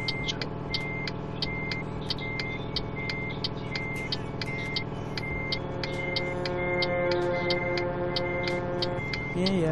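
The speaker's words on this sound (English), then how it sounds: "Just to be safe, I'll put my hazards on." Truck hazard lights tick steadily in Euro Truck Simulator 2, an even rhythm of crisp clicks over a constant engine drone, with a voice talking underneath.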